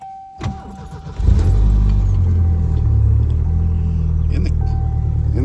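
A Ford Turbo Coupe with a Stage 1 turbo build cranks and starts, then settles into a loud, steady, deep rumbling idle heard up close, with brief speech over it.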